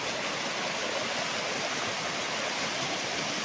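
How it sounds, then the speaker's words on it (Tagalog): A river flowing beside a farm lot with coconut, mango and lanzones trees in Majayjay, Laguna, heard as a constant, even rush of water that fills the whole clip with no pauses or voices. "videohan ko lang ulit yung ilog ha,"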